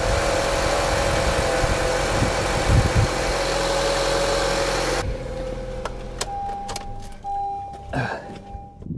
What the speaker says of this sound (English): Engine still fires up good.